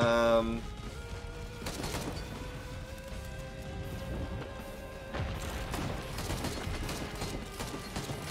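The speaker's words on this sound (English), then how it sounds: "We keep the barrage going." A barrage of gunfire and crashes fills a video game battle, with dense rapid shots and impacts layered over a busy background that jumps in intensity partway through.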